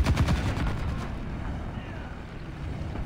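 A tank gun fires in War Thunder Mobile, a burst of sharp reports at the start followed by a rumbling, fading rolling echo, with no speech.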